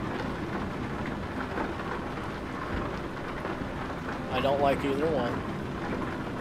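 Rain falls steadily with low rumbling in nighttime driving in American Truck Simulator, a continuous wet wash under a man's speech, with a short louder tonal swell near the end.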